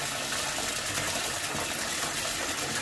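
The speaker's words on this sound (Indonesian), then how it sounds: "Kita cuci bersih seledrinya" Tap water runs in a steady, full gush while celery stalks are rinsed clean for a Chinese-style squid stir-fry, a close, constant wash of splashing with no talking.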